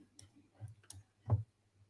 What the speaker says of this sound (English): I'm just clicking on that one because I want to see what's behind it.